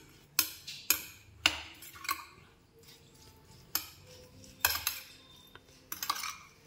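Small mourola fish are mixed with salt and turmeric in a metal bowl, giving sharp, irregular clinks and taps of a utensil against the dish, close and clear, with no talking.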